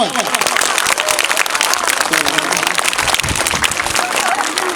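Loud, dense applause for the teachers at a scouts program event in Karachi, steady clapping from a large crowd filling the whole stretch with sharp overlapping claps.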